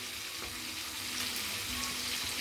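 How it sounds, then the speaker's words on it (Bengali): Rohu fish frying in oil in a wok, a steady close hiss of sizzling with faint crackles, no talk. "আর কড়াইতে কিছু ভাজছে"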